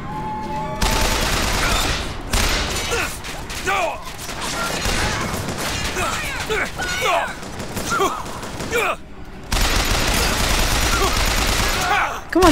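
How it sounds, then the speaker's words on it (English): Gunfire in the shooter game BioShock Infinite, with repeated bursts and rapid volleys of shots over a dense, loud battle soundscape lasting several seconds, briefly pausing twice. "stop shooting above him"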